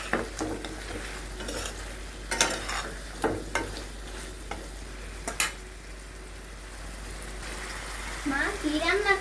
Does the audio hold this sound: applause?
no